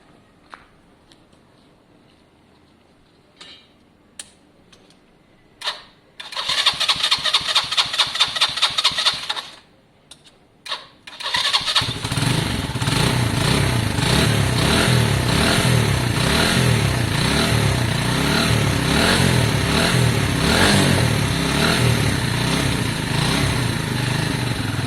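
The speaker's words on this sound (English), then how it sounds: "let's see if it fires and will idle at this stage" A Lexmoto Valiant motorcycle with a weak battery, converted from fuel injection to a carburettor, cranks in a few short bursts. The engine then fires and settles into a steady, loud idle that carries on to the end.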